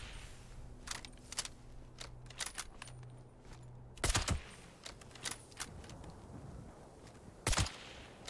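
Gunfire in Fallout 76 comes as sharp, separate bursts of shots spaced across the scene, some clustered in quick double cracks, over a low background hum.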